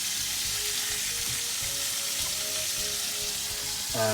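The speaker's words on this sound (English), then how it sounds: "quickly just reverse sear this in that pan" Meat reverse seared in a hot pan with butter, thyme and garlic, a loud, steady close sizzle throughout with a faint low rumble beneath.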